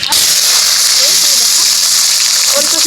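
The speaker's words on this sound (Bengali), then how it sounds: "ওলকপিটা দিয়ে দিচ্ছি তেলের মধ্যে।" Pieces of kohlrabi dropped into hot oil in a kadai for a mourala fish tok set off a loud, dense, hissing sizzle that begins abruptly and holds steady for about three seconds.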